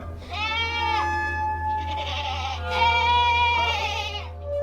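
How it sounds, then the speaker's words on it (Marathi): Several goats bleat loudly and urgently in fear, overlapping cries rising and wavering, close by over a steady low engine hum from a tempo truck at night on the Kasara Ghat road. "त्या मागच्या शेळ्याही घाबरून ओरडत होत्या"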